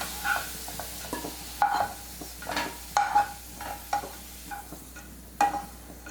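Partly fried potato chunks for dum aloo sizzling in oil in a kadai, with repeated spoon scrapes and metallic knocks as pieces are scooped out, close and fairly loud, no voices.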